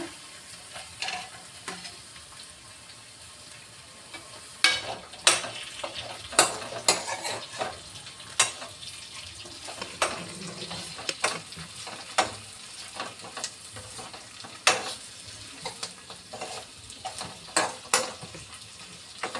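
Onions fry in oil in a pan for a bitter gourd dish, a soft steady sizzle broken by sharp, irregular scrapes and knocks of a spoon stirring against the pan, close and without talk.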